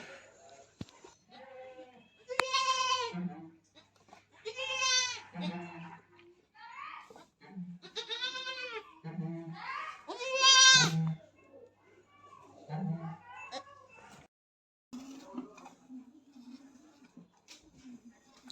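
Newborn goat kids bleat in a run of high, wavering cries, several calls spaced a second or two apart and heard up close, with softer rustling and faint background sounds toward the end.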